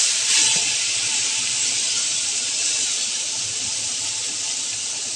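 Mustard seeds, cumin and spice masala sizzling in hot oil, a loud, steady close hiss that runs without a break, no talk.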